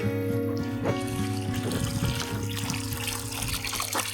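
Water trickling steadily from a pipe sticking out of the ground at a rural well in the basin, a continuous close splashing dribble with no talk.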